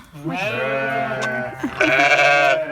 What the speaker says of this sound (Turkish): Bu sabah biz gelmeden önce doğmuş. Kuzu. Annesinin kuzusu.